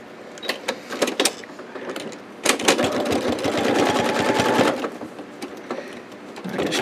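Sewing machine running zigzag stitches for thread painting a beach landscape, with a close motorized whirring that comes in short bursts, then one longer steady run, then starts again.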